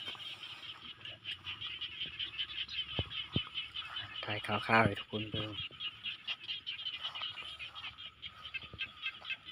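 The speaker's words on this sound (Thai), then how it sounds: "เสียงกบเสียงเคียดเนาะ" Frogs and insects call across rice fields at evening, a dense pulsing chorus of croaks and trills close by, with a person talking over it.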